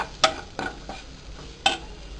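Mixture with salt being stirred in a pan while making potato-stuffed flat bread, giving a few brief scraping strokes against a quiet sizzling background.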